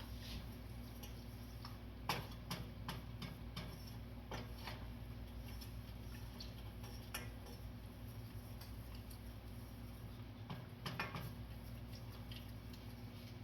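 Spoon stirring ingredients into a homemade drawing salve mixture gives light, irregular clinks and ticks against the container, steady and close over a constant low background hum, with no talking.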